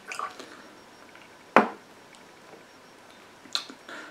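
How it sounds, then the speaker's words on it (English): A drop of water splashes into a glass of whisky, giving a sharp, close wet tick and then a second fainter tick a couple of seconds later, over quiet room tone. "I'm going to put a little drop of water with it and see what that does to"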